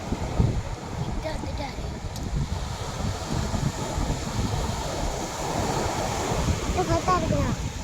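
Sea waves breaking on a beach, a continuous rushing surf with wind buffeting the microphone, steady and fairly loud throughout.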